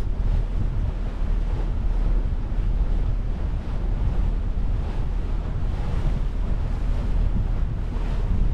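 On Lake Oneida, choppy waves slap continuously against a small boat under heavy wind buffeting, making a loud, steady rush of water and wind noise with no voices.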